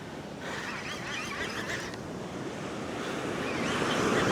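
Surf on a Perth beach crashes and washes continuously in a broad, steady roar, with wind buffeting the microphone and a faint bird call in the background.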